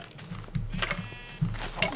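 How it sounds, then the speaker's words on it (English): A brown sheep in the Minecraft video game gives a few short bleats at close range, mixed with faint game background sounds. "you are a brown sheep."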